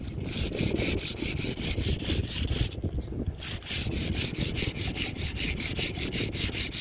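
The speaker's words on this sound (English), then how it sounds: "then I'm using sandpaper" Sandpaper rubs back and forth in quick, rhythmic strokes, stripping old sealant from a skylight; the close, scratchy sanding continues with one brief pause midway.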